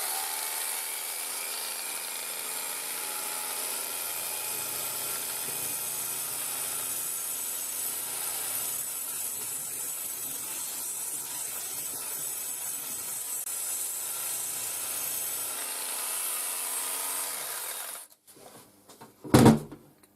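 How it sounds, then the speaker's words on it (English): A Bristle Blaster's spinning bristles scrub a steel bar with a steady, loud whirring hiss. It runs unbroken for about eighteen seconds, then cuts off, followed by a brief knock, with no talking. "So as the bristles turn around, so they flick off this bar and they kind of flick just below it here."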